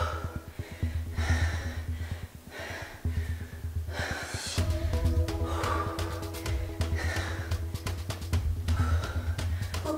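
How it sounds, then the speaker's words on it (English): Heavy, loud breathing during a kettlebell cardio and strength workout on a step, with rhythmic gasping inhales and exhales over a steady background beat. "Hope you guys are breathing heavy like I am, so you can't hear me"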